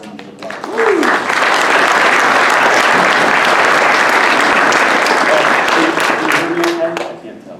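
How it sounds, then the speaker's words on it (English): An audience at a meeting about Hudson River fish breaks into loud, sustained applause that swells quickly, holds steady for several seconds, then tapers off, with a few voices faintly audible underneath. "everybody who made it happen today really deserves a round of applause"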